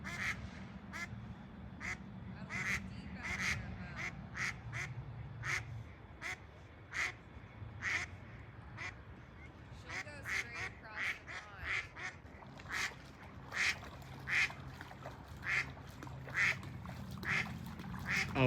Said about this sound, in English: Can you get those ducks? They ain't too pleased, are they?